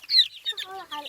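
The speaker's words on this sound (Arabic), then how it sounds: "ده ديك" A young Indian-breed rooster about two months old gives a quick series of short, close clucks, some rising squawky notes and others lower, all within about a second.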